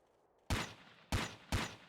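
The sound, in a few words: rifle gunfire in Ghost Recon video game, first-person view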